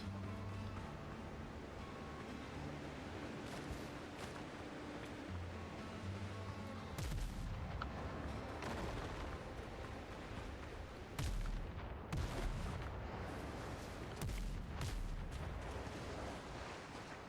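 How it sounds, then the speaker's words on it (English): Gunfire from shooters in the pirate game Windrose, a steady barrage of loud blasts and booms over a dense, continuous game soundscape with water and ambient noise. "What are they shooting at?"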